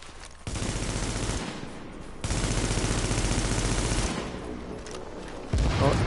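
Heavy bursts of gunfire in The Division's Times Square legendary mission, loud sustained volleys that start, pause and resume in long stretches, with no talking.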